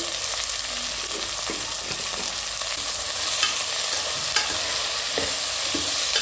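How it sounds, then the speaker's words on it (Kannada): Chopped vegetables and soya chunks sauté in hot oil in a pan for biryani, giving a continuous close sizzle broken by occasional scraping stir strokes, with no voices. "ಒಂದು ಎರಡು ನಿಮಿಷ ಎಣ್ಣೆಲಿ ಬಾಡಬೇಕಿದು"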